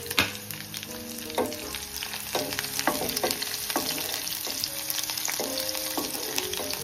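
Crushed garlic sautés in a hot pan, a continuous close sizzle punctuated by regular scraping and tapping strokes of a stirring spoon, with no voices.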